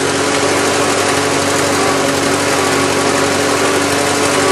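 A Farmall C tractor engine, started after sitting five months, runs loud and close in a steady, unbroken throb with no voices.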